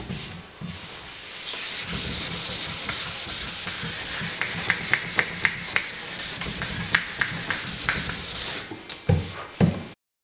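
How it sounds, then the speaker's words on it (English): Close, rhythmic scratchy strokes of fine 600 to 800 grit sandpaper rubbing back and forth over wood veneer of vintage furniture, continuous for several seconds before a few last short passes. "it's generally best to pass once with a fine sanding paper, such as number 600 or even 800"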